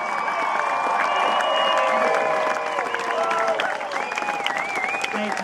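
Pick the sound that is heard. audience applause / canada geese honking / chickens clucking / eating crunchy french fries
audience applause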